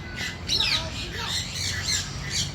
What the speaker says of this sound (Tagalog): Ang daming klase ng mga ibon.